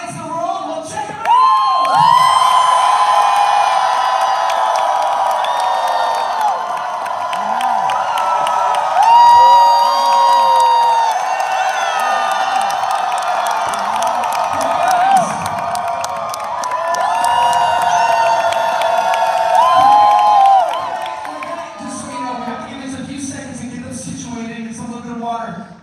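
Packed crowd at the Tampa Bay Comic Con 2024 Daredevil: Born Again panel roars for nearly half a minute, loud sustained cheering with high shrieks, whoops and scattered clapping that swells and dips in waves.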